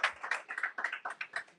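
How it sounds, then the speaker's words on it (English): A handful of people clap in a small room to welcome a podcast guest, a short sparse run of distinct claps at a fairly even rhythm. "Round of applause, guys."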